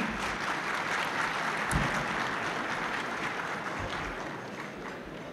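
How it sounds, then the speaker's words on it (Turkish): Sustained applause from a crowd at a public event in Çankırı, Turkey, steady and dense clapping throughout with no talk over it. "Sayın İdris Şahin Beyefendi'yi kuvvetlerle alkışlarla buraya almak istiyorum ben"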